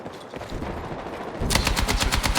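Sniper and rifle fire in the online shooter Battlefield 6: quiet game ambience, then a loud, rapid run of close gunshots in a steady burst over the final second.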